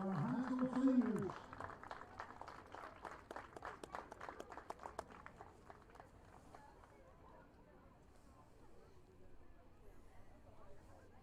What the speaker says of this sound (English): One last round of applause for our high school seniors